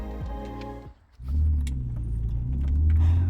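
A BMW M3 starts off on a drive: a brief jingle and clunk, a short pause, then the engine rumbles up and the car pulls away, close and moderately loud.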